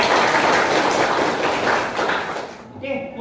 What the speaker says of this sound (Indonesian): beri tepuk tangan dulu untuk kalian semua ya